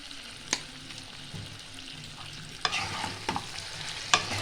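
Mutton rogan josh being stirred in a pan over medium-low flame, a soft steady sizzle broken by several sharp scraping strokes of the spoon, close and fairly quiet.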